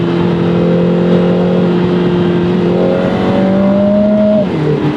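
A Lotus Emira First Edition sports car engine revs loud and sustained at close range while powersliding, its pitch holding steady then rising before dropping near the end, with no talking.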